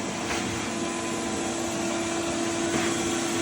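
A vacuum cleaner sucks up dirt from a barber shop floor during deep cleaning. Its steady, loud, close roar has a humming tone and runs without a break, with no talk.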